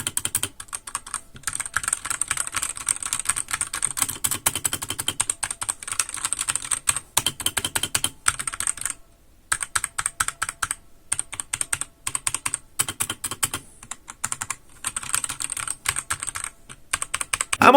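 Fingers type in quick, irregular bursts on a mid-range Redragon mechanical RGB keyboard, crisp clicky keystrokes heard close with short pauses between runs, no talking.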